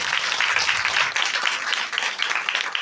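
A church congregation at a prayer service claps together for Jesus, a dense, steady wash of many hands lasting a few seconds at moderate loudness, with no one speaking over it.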